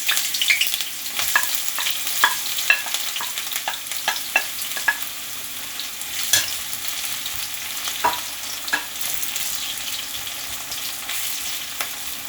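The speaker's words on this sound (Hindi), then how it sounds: "अब हम इसमें सबसे पहले प्याज ऐड कर देंगे।" Onions crackle in hot oil in a kadai with a loud, dense sizzle, and scattered stirring scrapes and pops sound close by with nobody talking.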